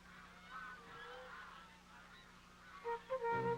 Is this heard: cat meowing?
no